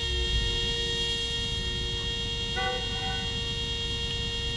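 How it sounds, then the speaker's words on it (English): A car horn honks in the Gran Turismo 7 racing game, a steady held tone with a brief louder blast midway over constant engine hum. "I don't have to hear this person honking their horn"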